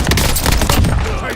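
Rapid gunfire during target practice, a loud close volley of shots in quick succession.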